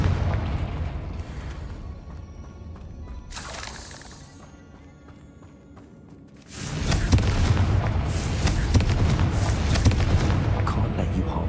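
Confringo blasting spell in Hogwarts Legacy erupting into a loud, booming explosion with crashing debris, following a quieter stretch with a brief whoosh, then a sustained roaring rumble to the end.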